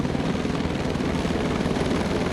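A French gendarmerie helicopter over a crowded ocean beach gives a steady, loud, dense rotor and engine roar that stays constant throughout, with no voices heard.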